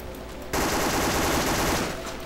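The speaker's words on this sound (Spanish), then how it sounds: "No sé qué mierda le estoy disparando." Rapid automatic gunfire erupts in a first-person shooter video game after a brief quiet moment, a loud sustained burst of dense shots that fades slightly at the end.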